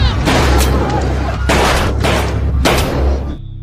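Gunshots in a scene from the film Run Hide Fight: three loud, heavy blasts spaced roughly a second apart over a continuous low rumble, ending abruptly.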